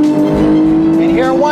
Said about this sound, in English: I just want to downshift.